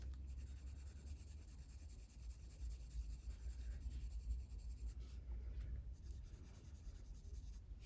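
A colouring pencil shades very lightly across paper, a faint, continuous soft scratching that runs steadily for several seconds with no voices.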